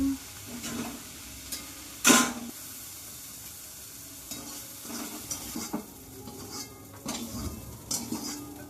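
A utensil scrapes cooked cauliflower pasta from a pan into a bowl over a faint sizzle, with a series of light clinks and taps and one sharp metallic knock near the start.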